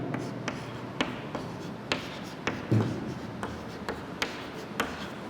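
Pen scratching across paper while writing out the multiplication table of 8, a soft continuous rasp with small sharp taps every second or so as each number is finished, close and quiet.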